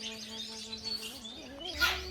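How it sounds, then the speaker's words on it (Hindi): Birds chirp and tweet in a morning setting beside the Narmada River at Satdhara, with steady repeated calls over a quiet background and a brief louder burst near the end. "देखिए चिड़िया कितनी शोर करके सुबह उठाती है"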